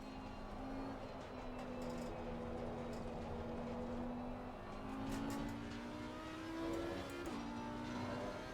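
A car engine in a racing video game hums and revs continuously, its pitch slowly climbing and dipping as the car drives, fairly quiet and steady with no talk.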